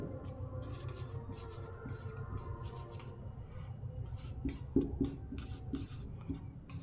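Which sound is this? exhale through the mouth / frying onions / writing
writing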